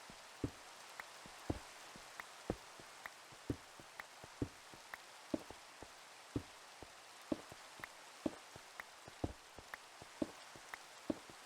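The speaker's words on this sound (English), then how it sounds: "Rain again, yeah. We've been having a lot of rain on the server lately." Steady Minecraft rain hisses continuously, with regular sharp drop ticks spread through it, soft and even with no speech.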